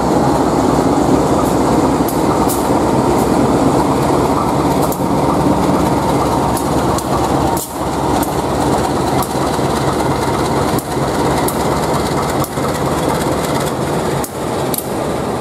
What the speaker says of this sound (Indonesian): Dilangsir pakai lokomotif CC201